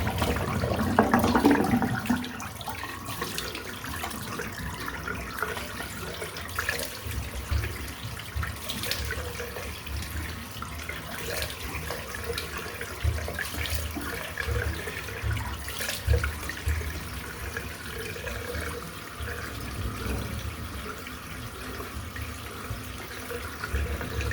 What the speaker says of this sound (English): just rinse the brush out